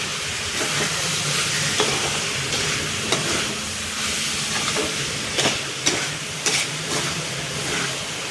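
Banana flower fries with turmeric in a pan, giving a dense, loud, hissing sizzle punctuated by scraping and clacking strokes as it is stirred, with no talk.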